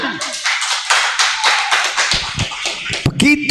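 Listeners at an Indonesian religious lecture clap on cue, a quick burst of crisp, uneven hand-claps close by, with a voice breaking in near the end.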